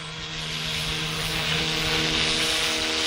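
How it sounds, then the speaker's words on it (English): An RTR F07 scale model helicopter flies with a steady, loud, whirring rotor and motor drone that holds constant throughout, with no voices. "You have a look at the chopper."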